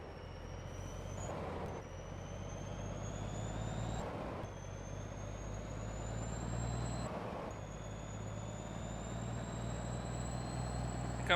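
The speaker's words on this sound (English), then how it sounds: "I think this version of the truck is the Cummins." A Cummins truck engine in Farming Simulator 22 drones steadily as it pulls, with rising whine tones through the gears and three brief thumps or shifts, no talk.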